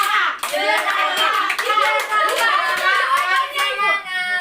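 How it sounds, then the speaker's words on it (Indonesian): A group of children in a classroom claps for a classmate, giving loud, dense applause that carries on steadily for several seconds with small voices mixed in. "Ayo kemudian kita beri aplaus untuk jerapah"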